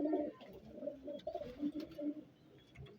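Ferozpuri pigeons coo softly at close range, a faint murmur of low, rolling coos overlapping through a few seconds.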